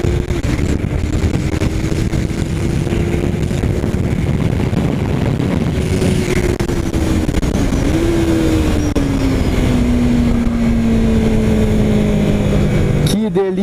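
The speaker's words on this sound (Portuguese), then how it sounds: "Eu adoro o motor dessa moto, cara." A loud, continuous Yamaha R3 sport motorcycle engine drone on the Interlagos race track, its pitch holding steady, then shifting up and gradually sliding lower as it runs.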